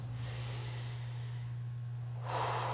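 Deep, breathy inhales and exhales during a standing stretch in a workout, two broad airy breaths close up over a steady low electrical hum.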